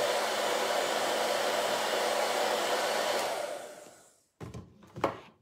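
A green heat gun blows hot air with a loud, steady rushing roar that fades and cuts off, followed by a few short bursts as it is switched back on briefly.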